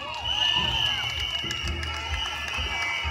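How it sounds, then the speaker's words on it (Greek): Carnival crowd in Mytilene applauding and cheering: scattered clapping and shouts rising and falling over about three seconds, with a voice talking over it. "Πάμε ένα χειροκρότημα."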